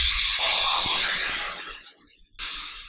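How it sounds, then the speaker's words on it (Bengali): Water hitting a hot pan of spiced Bengali curry bursts into a loud, broad sizzling hiss that slowly fades, drops almost to silence, then flares again in a fresh burst. "এবার জল দিয়ে দেব।"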